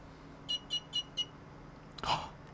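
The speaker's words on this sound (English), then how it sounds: "Will we get the beeps?" A computer powers on with a GPU that had been frozen in ice and gives four short, evenly spaced POST beeps, faint and clean, followed by a brief thump.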